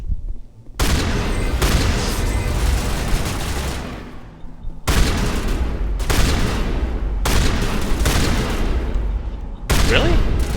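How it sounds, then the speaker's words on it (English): Shotgun fire in the video game Mass Effect during the attack on Eden Prime: loud, dense bursts of gunfire in several long volleys separated by brief pauses. "this is where I would like you to use my shotgun"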